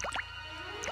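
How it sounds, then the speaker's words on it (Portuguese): Water drips from stone teeth in a cave in an animated film: a few quick, faint plinks and plops at the start and again near the end, with quiet stillness in between. "Os dentes de pedra estão pingando."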